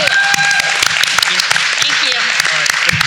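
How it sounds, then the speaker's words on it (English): Audience applause for a performer on a recovery-themed variety show, steady clapping from a crowd with sharp hand claps spread across the clip, fairly loud and close, with some voices mixed in. "Give Kristen a nice round of applause"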